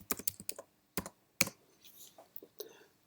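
Quick bursts of keystrokes on a computer keyboard as a search word is entered into accounting software, crisp clicks in short clusters with pauses between, close and fairly quiet, no talking.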